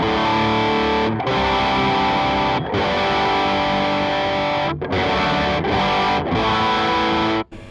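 A heavily distorted electric guitar rings out in sustained chords through a Super Distortion pickup and a high-gain amp setting, struck about five times with brief gaps between, loud and thick with no voices.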